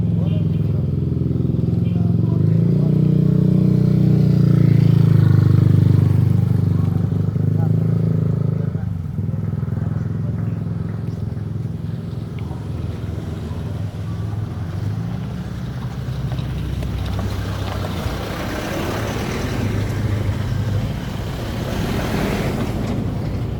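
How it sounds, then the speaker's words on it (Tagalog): Vehicles drive past one after another on a dusty road, a steady engine rumble that swells early and then gives way to rough wind buffeting and road noise. "Nagasunod ang mga sakyanan oh"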